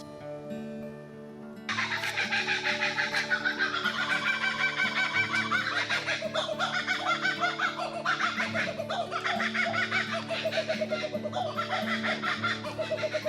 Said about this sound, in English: this kookaburra sat in a tree right outside the toilets